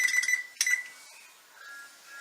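An oven control panel beeps as it is set to 325 degrees in a home kitchen: a few quick bright electronic tones, one sharper blip, then a softer lingering tone over quiet room noise.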